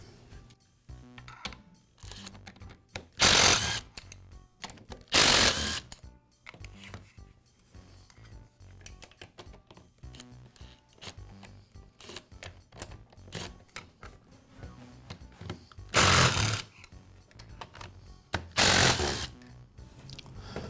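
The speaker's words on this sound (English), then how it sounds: "Next, I'll remove the screws that secure the motor to the saw's frame." Screws being taken out of the motor mount on a Milwaukee metal-cutting saw during a bearing repair, with scattered metallic clinks and tool rattles plus a few louder bursts of a powered driver, close by with no talk.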